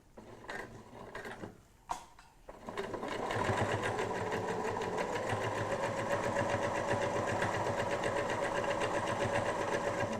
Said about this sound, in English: again I'm going to use the twin needle so that keeps that sort of feature